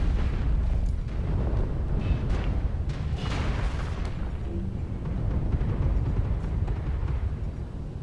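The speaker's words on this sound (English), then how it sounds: "Getting a lot of arty strike action in here." Rumbling artillery strikes and explosions in the MechWarrior Online video game, a dense, continuous barrage of booms and bursts with no clear gaps, loud and sustained throughout.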